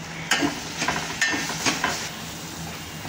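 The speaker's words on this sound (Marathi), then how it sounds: "आता हे मसाले चांगले परतू द्यायचे 1 मिनिट।" Dry spices such as onion-garlic masala, red chili powder and coriander powder sauté with tomatoes in a pan: a quiet steady sizzle broken by several light scraping stirs.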